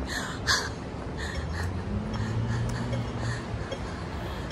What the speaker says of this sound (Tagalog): Hingal na si host